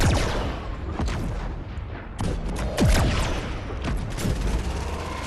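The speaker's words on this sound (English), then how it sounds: "I can hear gunshots, so they've found each other" Repeated sharp video game gunshots and booms crack through a steady noisy background, some in quick bursts, others spaced apart, fairly loud and close.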